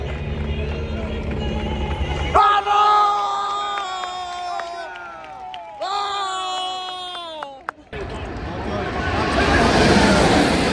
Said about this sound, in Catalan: Molts aplaudiments a Verstappen